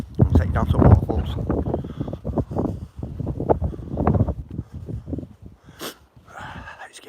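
Wind gusting across a Lancashire hillside, buffeting and roaring against the microphone in uneven bursts beneath someone talking close by.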